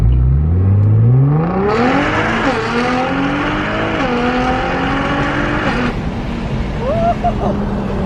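A sports car engine revs hard and climbs through several gears, pitch rising and dropping with each shift, loud and close, with faint tire noise.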